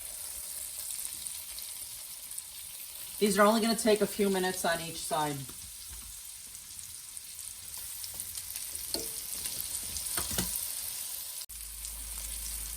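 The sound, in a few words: chicken cutlets sizzling in a hot pan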